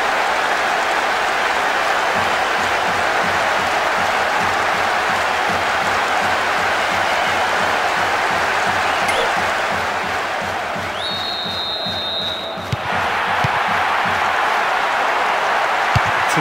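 Stadium fans in the eFootball 2023 soccer game on PS2 clap in a steady, loud wash of applause and crowd noise that runs throughout, with a short whistle-like tone near the end.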